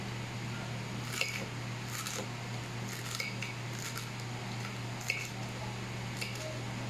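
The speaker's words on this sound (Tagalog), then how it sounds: "Hiwa naman tayo ng kamatis" A knife slices through a very ripe tomato with a series of soft, evenly spaced cuts, quiet and close, over a low steady hum.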